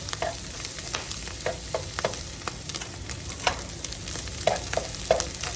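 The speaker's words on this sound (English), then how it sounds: "I moved all the meat back and put a little bit of garlic right there in the middle, and I'm just letting that garlic roast there a little bit" Garlic roasts in the middle of a pan of browned meat for stuffed cornbread casserole, a close, steady sizzle broken by repeated scraping clicks of a utensil against the pan.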